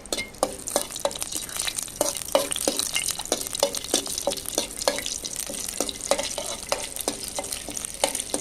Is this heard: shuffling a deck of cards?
no